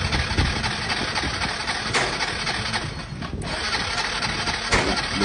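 A motorcycle engine cranks and runs roughly during a compression test on a motor with low compression, a steady close mechanical clatter with brief surges.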